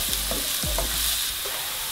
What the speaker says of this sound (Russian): Жарим 2-3 минуты, чтобы наша морковочка также чуть-чуть поджарилась и подвялилась.